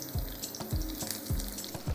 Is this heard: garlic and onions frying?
yes